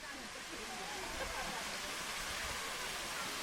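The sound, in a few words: waterfall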